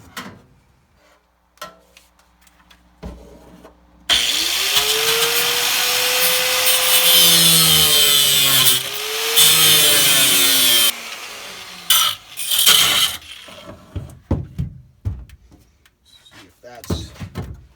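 A power tool slices a pie cut into the rusty side trunk metal of a 1955 Buick Special, a loud sustained whining grind lasting several seconds, with shorter cuts and clatter before and after and someone talking between.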